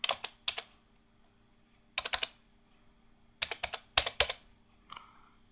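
Fingers tap a PIN code on a computer keyboard, quick clusters of crisp, close keystrokes separated by short silent pauses, fairly quiet and with no talking.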